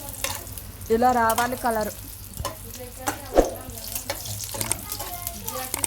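Green chillies fry in hot oil and are stirred around the pan, giving a steady sizzle with scraping stir strokes while someone talks over it.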